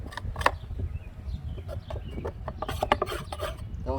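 Wet grass clippings are scraped from under a lawn mower deck in quick, irregular rasping strokes, fairly close and steady, with no talk.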